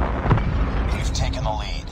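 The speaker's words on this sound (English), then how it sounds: "grenade!" A grenade explodes in Call of Duty Mobile, a dense low boom that fills the short stretch with a rumbling roar, with game voices mixed in.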